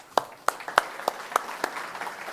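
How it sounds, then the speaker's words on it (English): A small audience at a coaches' congress gives brief applause: a handful of distinct, evenly spaced loud claps over a light scatter of clapping, fading after about two seconds. "And applause."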